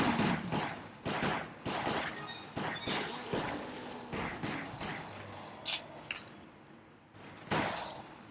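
Rapid bursts of gunfire in the video game Resident Evil: Umbrella Chronicles, a dense fusillade of sharp repeated shots across the whole stretch with brief pauses between volleys.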